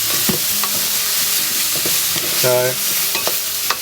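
A spoon stirs and scrapes browned residue off the bottom of a pan with garlic sizzling, a busy nearby frying hiss with scraping strokes and a brief tonal clink, no talk.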